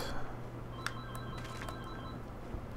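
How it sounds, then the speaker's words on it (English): A telephone rings in a room during a Demon's Souls game session, a faint repeating electronic trill with short bursts over a steady low hum, no talk. "And I wonder if you guys are hearing that phone ring."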